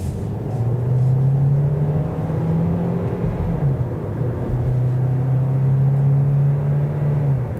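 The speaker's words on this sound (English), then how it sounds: "in sport mode, you definitely hear the engine more" A 2024 Kia Niro EX hybrid's engine hums steadily at a moderate level in sport mode, its pitch rising and falling a little as it accelerates under full throttle, with a constant road rumble beneath.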